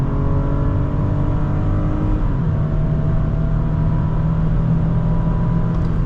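A 2010 Lexus ES350 accelerates hard on a test drive, its engine droning loud and steady with rising harmonics and a drop at one gear shift before climbing again, heard from inside the car with no talk.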